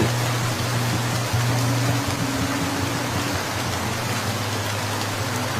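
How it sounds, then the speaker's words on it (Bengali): Steady rain pouring in a Bengali cartoon scene, a dense, even wash of falling water with a faint low hum underneath, continuous and fairly loud, no speech. "আহ এই বৃষ্টিটার জন্যই মনে হয় আমার শরীরটা আজ একটু শান্তি পেল"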